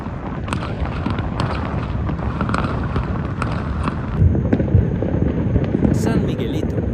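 New Year 2025 fireworks over Panama crackle and boom continuously from a distance, a dense wash of bursts with a louder cluster partway through, while voices are heard in the background.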